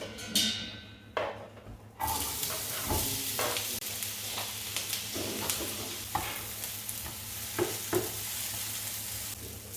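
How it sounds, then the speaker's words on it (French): Onions sizzle and fry in olive oil in a saucepan, a steady soft crackle with intermittent stirring scrapes and clinks, close and fairly quiet, for a chicken curry. "maintenant on va commencer la cuisson de nos oignons"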